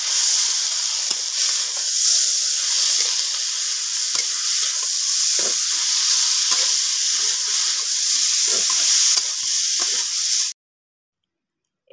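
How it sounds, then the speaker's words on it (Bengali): Radish and radish greens sizzle loudly in hot oil with fried garlic and onion, a steady close hiss with occasional stirring scrapes that stops abruptly near the end; no talking. "এরপরে দিয়ে দেবো যে মূলো আর মূলো শাক।"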